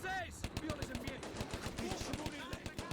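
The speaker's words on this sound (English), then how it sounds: "cross into this open field among the raining artillery and gunfire" Dense video-game combat from Combat Mission: Barbarossa to Berlin as troops cross an open field: rapid machine-gun bursts and rifle shots crack steadily throughout, layered over distant artillery rumble, with a voice faintly under the fire.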